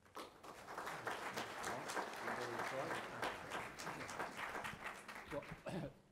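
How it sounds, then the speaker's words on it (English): A roomful of people applauds steadily, a dense patter of many hands clapping at moderate volume for several seconds before it trails off. "That applause will cover everybody on our panel."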